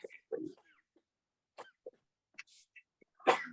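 A single sharp sneeze bursts out near the end of a quiet room, preceded by scattered soft coughs, breaths and small vocal sounds.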